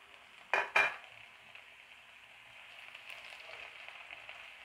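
Ginger and garlic pieces fry in masala in a pan, starting with two loud clattering knocks of a utensil, then settling into a soft, steady sizzle that builds slightly, with no voices.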